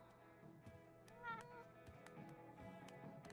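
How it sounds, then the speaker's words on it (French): A small cat meows once in the video game Life Is Strange: True Colors, a brief rising cry heard over continuous game music and ambience. "Il est mignon ce petit chat."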